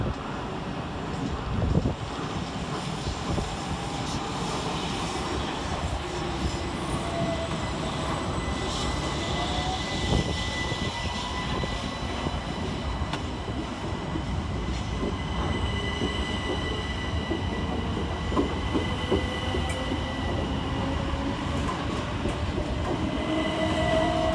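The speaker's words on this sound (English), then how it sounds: "Next set out is 377-161, 377-160 and 377-428, with the 1802 Southern Railway service from London Victoria to Littlehampton." A Southern Railway class 377 electric train of three units leaves Clapham Junction, with a steady rolling rumble, long wheel squeals rising through the run and occasional clunks over the points.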